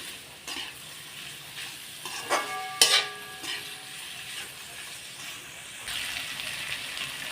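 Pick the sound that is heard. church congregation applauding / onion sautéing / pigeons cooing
onion sautéing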